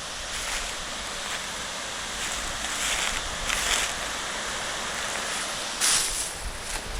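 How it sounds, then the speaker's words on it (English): A river in Thailand flows in a continuous broadband rush, steady and moderately loud, swelling in a few brief louder surges, with no talking heard over it. "you hear that river"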